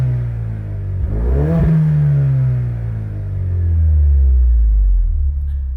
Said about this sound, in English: But here's some revs for you.